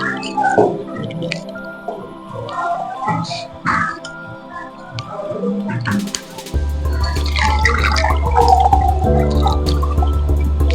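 Dirty water drips steadily through a homemade cotton filter, the close, distinct drops later giving way to a louder continuous trickle over a low hum.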